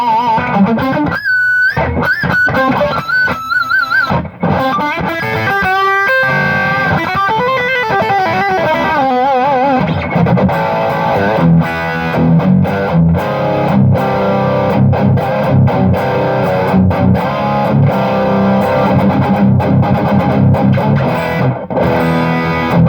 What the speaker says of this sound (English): Which is usually pretty good to do when you're showing the gain channel, so you can really hear how much it saturates without the reverb in the way.